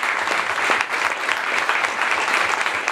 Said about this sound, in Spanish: un fuerte aplauso al compañero Lula